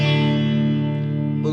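Donner Tele-style electric guitar on its parallel pickup setting, a sustained chord ringing bright and full with a slight new attack near the end, played alone.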